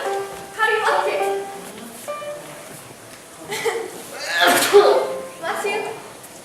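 In a film scene, one sharp, noisy sneeze bursts out partway through, set among people talking indoors.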